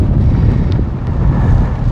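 Wind buffets the microphone on a ladder beside a polytunnel, a loud low rumbling roar that carries on for the full two seconds.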